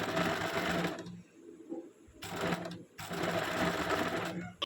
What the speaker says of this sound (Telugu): ఇక్కడ పెట్టుకొని మనం ఇప్పుడు స్టిచెస్ అనేది వేసుకోవాలి.